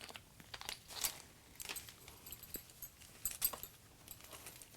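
Small metal hex keys from a DJI Ronin-M gimbal kit jingle and clink faintly during unboxing, with scattered light metallic taps and rattles close by.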